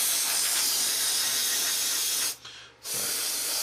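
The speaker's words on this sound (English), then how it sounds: "We're spraying quite dry" Paint spray gun hissing steadily close-up as it sprays a model, spraying fairly dry, with one short pause in the spray before the hiss resumes.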